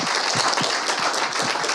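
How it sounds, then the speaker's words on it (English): Audience applause after a Larimer County water education panel on conservation and sharing, a steady dense wash of clapping filling the whole moment at close, even loudness. "Let's give them one more round of applause."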